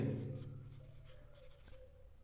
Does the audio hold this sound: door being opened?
no